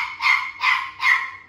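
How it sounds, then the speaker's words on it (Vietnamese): Dog barking in three clear, evenly spaced barks, fairly close and loud, with no talk over them. "giờ có người là chó sủa rất là nhiều luôn"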